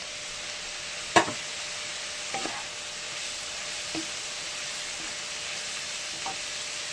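Shrimp frying in a pan gives a steady sizzling hiss, broken by a sharp scrape of stirring near the start and a few fainter clinks and scrapes later on.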